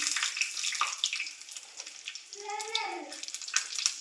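Mustard seeds, curry leaves, cinnamon, cloves and other whole spices hitting hot oil in a pan for South Indian sambar, giving a close, steady crackling sizzle with brief bursts of spitting, no one talking.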